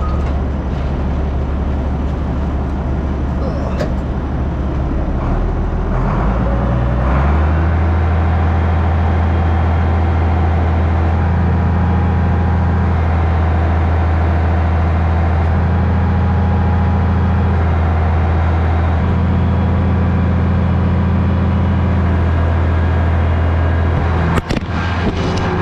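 A tractor's PTO drives a feed mixer's augers and chute conveyor, a loud continuous mechanical drone whose pitch rises and settles as the load shifts, with a sharp clank near the end.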